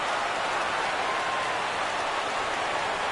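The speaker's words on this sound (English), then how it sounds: "A big crowd here downtown." Stadium crowd of over forty thousand in San Diego for a Cubs vs Padres game in MLB The Show, a dense, steady roar of cheering and applause filling the whole stretch at even level.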